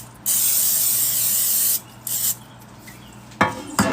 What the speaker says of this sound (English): And I spray the pan.